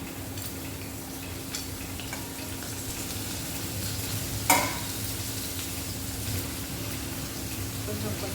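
Nalleru (adamant creeper) stalks frying in a pan with a little turmeric, making a steady, even sizzle with a low background hum and one brief clatter midway.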